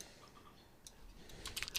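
Quick keystrokes on a computer keyboard, a faint scattered patter that thickens into a brief burst of close clicks near the end, alone with no voices.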